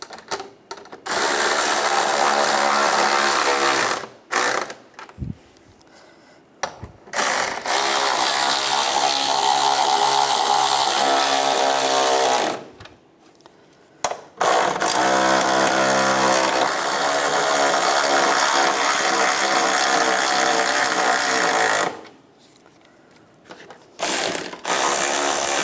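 A ratchet wrench tightens the nuts on the air deflector of a 1996-2002 Toyota 4Runner, with long runs of rapid, close clicking broken by brief pauses.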